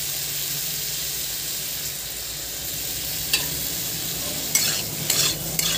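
Potato, cauliflower and capsicum masala with tomato frying in a pan, a steady close sizzle broken near the end by several scraping stirs of a spoon against the pan, with no voices.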